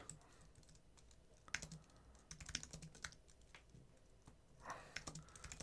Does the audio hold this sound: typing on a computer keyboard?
yes